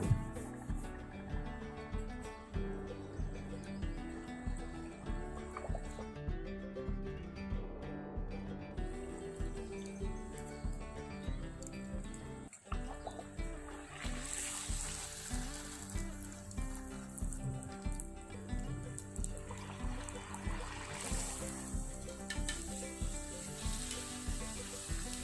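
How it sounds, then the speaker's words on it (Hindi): Gol gappay (pani puri) puffs fry in hot oil with a steady, soft sizzle that continues throughout, mixed with a rhythmic background track. "इसी तरह सारे गोलगप्पे फ्राई कर लूंगी।"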